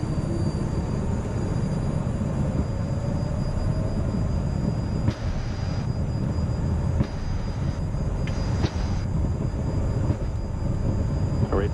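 A 2013 Cessna Citation Mustang jet takes off, heard from inside as a loud, steady cabin roar with a thin whine that climbs gradually and a few sharp clicks along the way.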